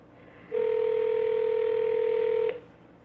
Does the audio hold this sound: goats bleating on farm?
no